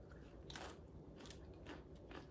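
Biting into a crunchy Frito corn chip produces a few quiet, brittle crunches spaced about half a second apart over a low, steady background hum.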